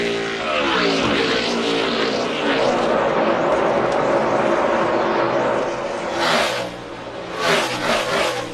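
NASCAR stock cars race at Pocono Raceway, a loud, sustained engine roar as the pack passes close by, pitch shifting as cars go through the turn, then a second car surges past near the end.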